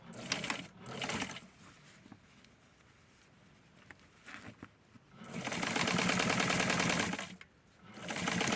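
A sewing machine stitches doll-sized jeans for a Ken doll, rattling in a quick mechanical patter: a brief run, a pause, then a longer sustained burst of stitching, fairly close and alone.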